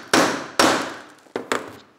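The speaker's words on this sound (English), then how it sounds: "hit it with a hammer." A hammer strikes a grommet-setting tool four times in an irregular rhythm, each blow a sharp, loud, close metallic knock that rings briefly and fades.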